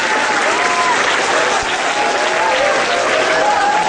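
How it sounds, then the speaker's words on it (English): Children clap at a Republic Day school assembly, a dense, steady wash of applause from a large group that stays loud throughout, with faint voices mixed in. "No children, you will not hoot, you will only clap."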